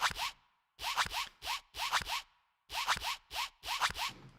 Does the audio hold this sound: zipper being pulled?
yes